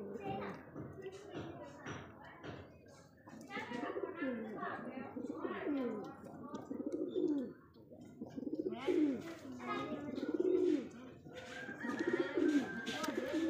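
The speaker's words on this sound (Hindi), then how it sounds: "बकाया ये कबूतर हर टाइम बाहर आने की कोशिश करते हैं, जब भी कबूतर बाहर निकालता हूँ।" Pigeons coo repeatedly in a loft of high-flyer birds, close and clear, their throaty rolling calls overlapping with some chirps and a soft thud, while someone talks at moments.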